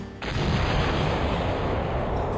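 Heavy cannon and howitzer fire in the video game Cossacks erupts after a brief quiet start, a dense, loud booming barrage that rumbles on continuously with no pauses.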